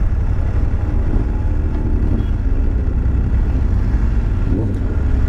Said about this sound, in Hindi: मैं ये ऐसे रब कर रहा हूँ तो पूरा एग्जॉस्ट का जो है नोट सुनाई दे रहा है